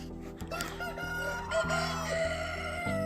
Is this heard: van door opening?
no